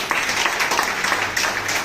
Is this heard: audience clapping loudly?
yes